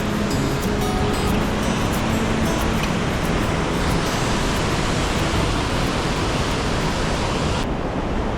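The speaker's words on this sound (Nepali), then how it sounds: "कल कल अविरल बगिरहने लाङकाङ खोलाको पानी हौ तिमी" The Langtang river rushes past in the Himalayas, a dense, steady roar of flowing water that fills the whole stretch without pause.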